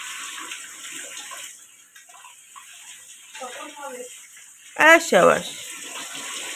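Pointed gourd rinsed under a running kitchen tap, with a steady flow of water and louder splashing bursts near the end. Voices speak briefly over it.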